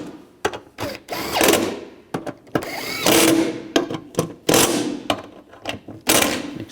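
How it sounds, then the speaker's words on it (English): A hand ratchet snugs down the window motor bolts inside the front driver's side door of a 2004-08 Nissan Maxima, in short rapid clicking bursts with brief pauses between strokes. "And snug the bolts down."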